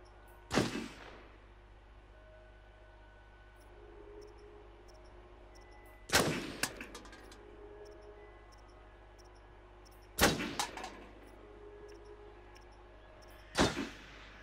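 Four loud, sharp gunshots from the Until Dawn game ring out a few seconds apart, each with a short echoing tail and a faint mechanical rattle, over a quiet, low ambient hum.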